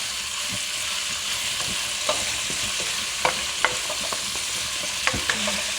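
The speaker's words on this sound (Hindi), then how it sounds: "ये देखें हमारा गोश्त हल्का सा फ्राई हो गया।" Goat meat sizzles steadily in a hot pan while a utensil scrapes and stirs, giving occasional sharp clinks over the constant frying hiss.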